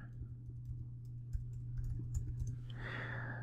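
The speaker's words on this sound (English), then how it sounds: "Let me fix that typing." Typing on a computer keyboard: a quick, uneven run of close, light key clicks over a steady low electrical hum, with no talking.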